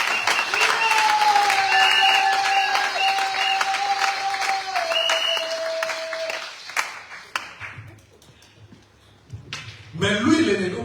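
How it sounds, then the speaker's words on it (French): A church congregation applauds loudly as a preacher speaks over the sustained clapping, which thins out into scattered claps before swelling again at the end. "Applaudissez très fort le Seigneur de gloire."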